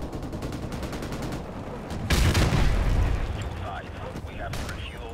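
Gunfire in Modern Warfare Remastered, a burst of rapid shots in close succession that swells into a loud, dense stretch of firing before easing, with game voices and effects mixed in.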